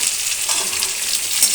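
Potatoes frying in mutton curry give a steady, close, bright sizzle with stirring, and nobody talks.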